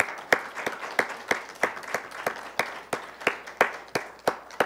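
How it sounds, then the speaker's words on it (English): A small group at a high school quiz game between Bishop Verot and Moore Haven claps in a steady, evenly spaced rhythm, each clap distinct and fairly faint. "Give him a round of applause."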